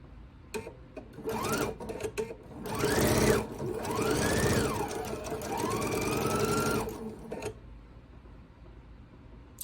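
A home sewing machine stitches a quilt block with a short stitch length and scant quarter-inch seam, several close motor runs rising and falling in pitch over rapid needle clatter, then stopping.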